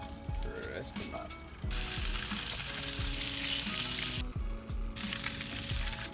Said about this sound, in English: Now that our pan's nice and hot, we're just gonna lay those little pieces of steak down. Crisp them up.